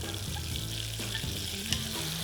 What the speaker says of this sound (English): You can hear it sizzling, you can hear it bubbling up.